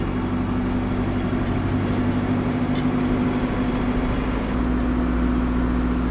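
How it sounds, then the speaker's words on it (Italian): A car engine runs steadily from inside the vehicle, a low droning hum with a constant tonal note that holds throughout, loud and close with no talk over it. "Senti il motore, senti."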